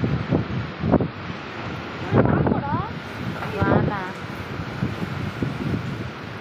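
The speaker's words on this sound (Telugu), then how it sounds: "గాలి వాన" A wind and rain storm gives a steady, rough rushing noise outdoors, while people talk intermittently close by over it.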